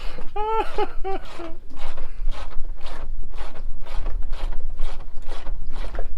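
On a sailboat, a long nut is tightened with an 11 mm spanner, producing a close, steady series of rhythmic ratcheting clicks and scrapes that repeat roughly twice a second, with a brief squeaky tone near the start.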